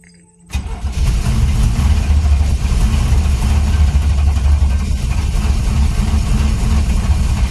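A car engine spitting and sputtering while barely running: after a brief quiet moment it fires up into a loud, rough, continuous rumble close by, with no talking.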